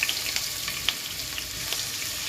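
Chopped onions sizzle steadily in hot oil in a pan while being fried for fried rice, with a close, continuous crackle, small pops and stirring, and no voices.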